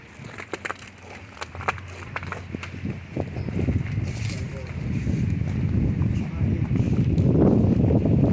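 Gusty wind buffets the microphone on icy ground, rising into a stronger rumble toward the end, with scattered crunchy footsteps early on.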